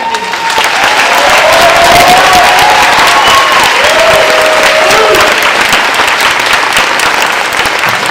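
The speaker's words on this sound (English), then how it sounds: "now a big round of applause for everyone" An audience at a school fourth-grade moving-up ceremony applauds in a loud, sustained wash of clapping that holds steady throughout, with faint crowd murmur mixed in.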